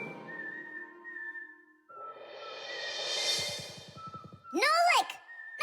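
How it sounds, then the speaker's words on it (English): A cartoon character whistles a tune in clear sustained notes, with a brief fast warbling run near the end, set against a quiet cartoon background. "Just whistling a tune."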